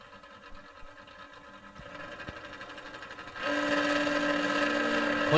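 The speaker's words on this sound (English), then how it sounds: "As the Rollins machine now off the racetrack, we are fired them up and we are ready to go." Drag racing car engines at a strip firing up: a mechanical whine builds, then a loud, steady high-revving drone takes over with a sustained tonal pitch, heard from a distance.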